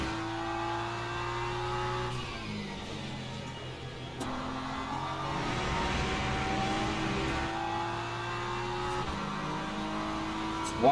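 Hypercar engine in the Le Mans Ultimate racing game, howling steadily and loudly throughout, its pitch stepping up and down through gear changes.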